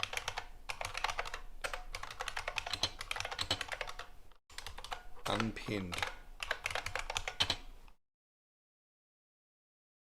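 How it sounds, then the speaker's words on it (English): Fast, dense clicking comes from a late-1990s computer keyboard, typed continuously for about eight seconds with a brief pause midway and a quiet voice speaking once, then silence. "These keyboards were everywhere back in the late 90s sort of thing."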